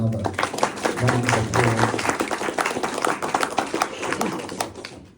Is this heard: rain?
no